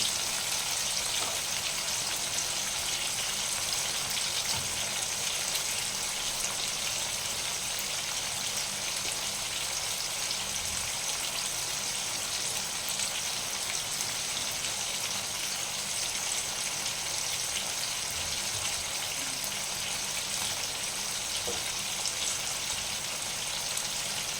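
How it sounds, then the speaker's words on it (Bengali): Small puti fish frying in hot oil in a home kitchen, a steady dense sizzle and crackle running continuously and evenly throughout, close and fairly loud with no talking. "এই দেখুন এইরকম ভেজে নিতে হবে"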